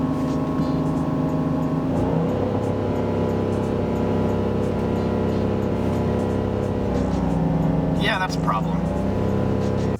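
A Lamborghini engine held at high revs around 4,000 RPM at a traffic light, a loud, steady droning roar under conversation, with a short sharp rise near the end.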